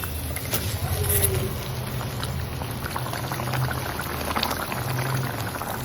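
Water simmering in a pan of Bengali khoira fish jhal curry, a soft continuous bubbling and gentle liquid patter, close and moderately quiet with no talking.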